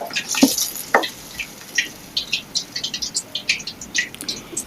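Rohu fish pieces coated in ginger-garlic paste, chili powder and salt, frying in a pan. A steady bubbling sizzle with quick crackling pops, close up, plus a few clinks of a utensil near the start.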